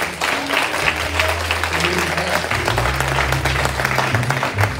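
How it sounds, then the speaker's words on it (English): Worshippers at a Christmas church service clap their hands in praise, a sustained wash of many hands clapping together with a low musical hum underneath. "come on, give God a hand clap of praise"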